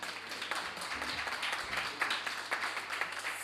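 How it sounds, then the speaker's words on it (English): Audience clapping for debating teams at a moot court event, scattered moderate hand claps running steadily for a few seconds in a room, fairly faint. "Give them a round of applause again"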